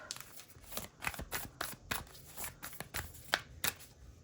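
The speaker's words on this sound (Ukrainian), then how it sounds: "Що ж це таке, що в мене сьогодні карти всі" Cards riffle and slap down in quick, uneven bursts, a close crisp shuffling with occasional sharper flicks, no talking.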